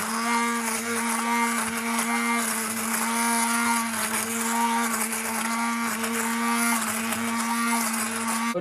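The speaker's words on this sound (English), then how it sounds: "I'm using my hand blender to blend it." A hand blender whirs through rum-soaked fruit for a Jamaican fruit cake, a steady, close, high-pitched motor drone holding an even tone with slight fluctuations as it works.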